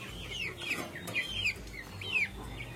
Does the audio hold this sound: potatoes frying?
no